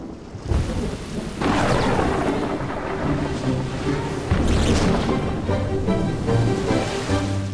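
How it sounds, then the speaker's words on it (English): A thunderstorm with heavy rain rumbles and cracks, bringing two loud thunder crashes that roll out over a steady downpour. "Sometimes filled with a thunderstorm."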